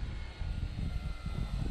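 A small engine drones faintly at a distance, the buzzing hum of an E-flite Air Tractor model airplane flying a touch-and-go in gusty wind at a park, with slight fluctuations.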